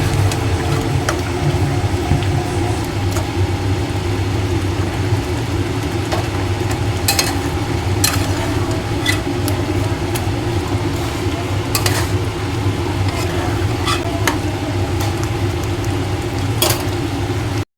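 A spoon stirs tomato pickle with raisins in a pan, giving scattered sharp clinks and scrapes against the metal over a steady low stove hum, with no voices.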